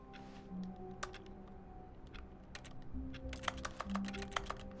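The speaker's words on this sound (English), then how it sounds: "I guess I have my keyboard with me." Irregular, close clacking of keys on a computer keyboard, with quick bursts of typing over a faint background hum.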